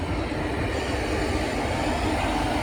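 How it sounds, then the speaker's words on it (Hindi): The Mussoorie Express pulls away from platform 3 at an Indian railway station after a five-minute halt, a continuous close rumble of rolling wheels and carriages with no voices. "5 मिनट के हॉल्ट के बाद डिपार्चर हो गया है 3 नंबर प्लेटफॉर्म से मसूरी एक्सप्रेस का।"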